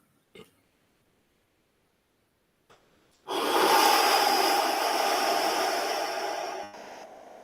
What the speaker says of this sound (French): Allez, allez, on prend les 2 bras